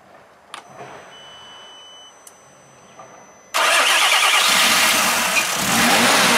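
Car engine started with a jump-start booster: quiet cranking and clicks first, then the engine catches abruptly and settles into a loud, steady close-up idle that continues to the end.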